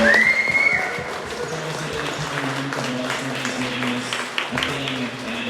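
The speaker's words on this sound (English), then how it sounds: "I'd just like to give a quick round of applause to all of the volunteers and the rest of the organizing team" Applause from a gathered crowd thanking volunteers and an organizing team at a live event, steady clapping with whistles and cheering voices, sustained throughout with people talking underneath.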